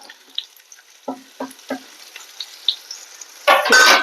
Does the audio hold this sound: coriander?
yes